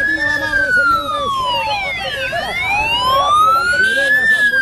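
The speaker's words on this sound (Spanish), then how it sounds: "Miren las ambulancias" Ambulance sirens wail loudly and continuously along the route of a binational Peru–Ecuador 7K road race, with overlapping rising and falling tones close by and crowd noise underneath.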